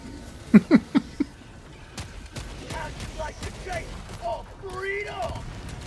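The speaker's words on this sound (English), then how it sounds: "Oh, that's a barrage. Someone dropped a barrage on us." An orbital barrage in a video game lands as a quick volley of four sharp blasts near the start, followed by scattered rumbling impacts, with people talking over the later part.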